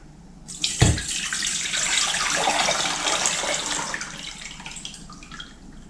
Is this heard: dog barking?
no